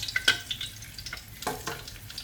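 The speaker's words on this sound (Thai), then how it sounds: "เราก็มาผัดสามเกลือนะคะ สามเกลือคือรากชีพริกไทยกระเทียมกระตำ" Coriander root, pepper and garlic paste stir-fry in oil with a soft, close sizzle, broken by scraping stirs and light clinks of a utensil.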